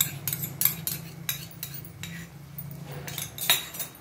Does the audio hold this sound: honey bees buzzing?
no